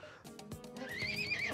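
A horse neighs in a video game, a rising whinny that builds over the second half, with light hoof clatter and soft tones beneath, close and fairly clear, no talking.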